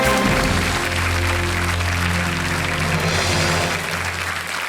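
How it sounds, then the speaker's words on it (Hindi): Studio audience on a televised quiz show applauds a contestant, a loud continuous wash of clapping layered over steady low musical tones. "All right, ताली बज जाए बी लावण्या के लिए"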